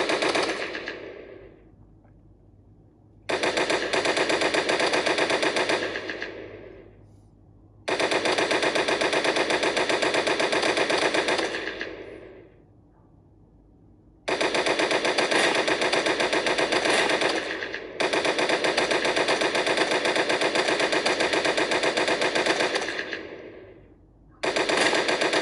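Bursts of automatic gunfire from shooting in a Skibidi Toilet open-world video game, several loud sustained volleys of a few seconds each separated by short quieter gaps.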